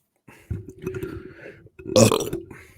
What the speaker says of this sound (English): I know everybody hates my burps